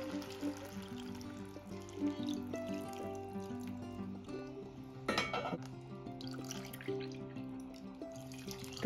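Water poured into a pot of vegetable khichdi, quiet trickling and splashing with a few light clinks, soft and close over faint background music.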